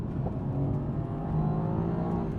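A Mercedes-AMG C63S engine revs loud and close, a steady deep roar holding throughout with no talking over it.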